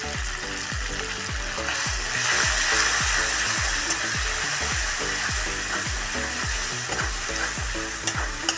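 Tomato frying in oil with chili, a loud continuous sizzle and crackle with regular rhythmic scraping stirs in the pan, close and steady.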